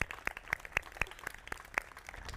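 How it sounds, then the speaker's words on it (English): Sparse applause for children at a garden event, a handful of separate claps in a loose, uneven rhythm, quiet and somewhat distant with no voices over them. "I want the media here to give these kids a round of applause."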